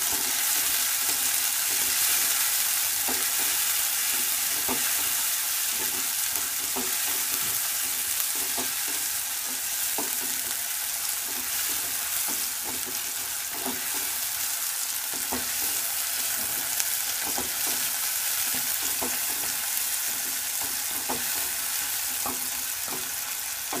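Onion and tomato frying in oil for rajma masala, with a loud, steady sizzle throughout and regular spatula scrapes and taps repeating close by, with no voices.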